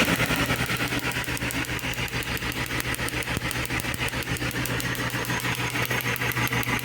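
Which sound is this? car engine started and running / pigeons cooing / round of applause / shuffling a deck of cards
car engine started and running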